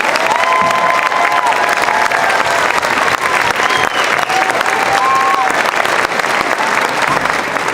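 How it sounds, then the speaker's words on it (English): A school audience at an All Town Band concert gives loud, sustained applause mixed with cheers and shouts for the 6th grade band, a dense wash of clapping with scattered whistles and voices throughout. "And another round of applause for the lovely 6th grade band."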